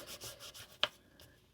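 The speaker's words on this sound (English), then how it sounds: "I take a sponge that is not actually inked, and I just hit the" A dry, uninked sponge dabbed against the paper edges of washi-taped journal cards gives close, faint, soft rubbing pats, with one sharper tap standing out near the middle.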